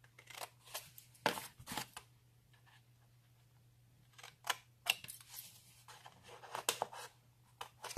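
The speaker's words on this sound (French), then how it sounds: "vous prenez une paire de ciseaux. Et à chaque ligne, vous allez faire une coupe en biais." Scissors snip angled cuts into paper or card, giving a few sharp close clicks and crisp cuts separated by pauses, quiet overall against a low steady hum.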